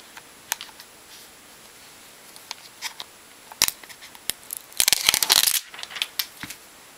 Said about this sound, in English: getting rid of all the plastic.